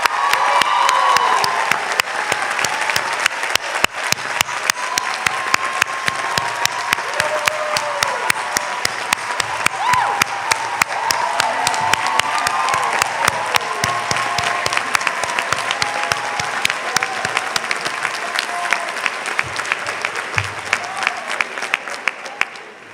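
A large commencement crowd at a college graduation ceremony bursts into sustained applause with cheers and whoops, dense rapid clapping filling the space throughout, loud and continuous with scattered voices mixed in.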